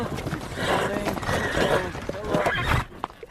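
Horses of a mounted troop arriving across the desert neigh loudly and close. Their whinnies mix with hoofbeats and commotion before dropping off near the end.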